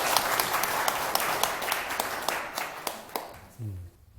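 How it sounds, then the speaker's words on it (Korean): Audience clapping together at a Korean lecture session, a dense round of applause that thins into scattered claps, then a brief voice near the end. "박수 한번 치세요."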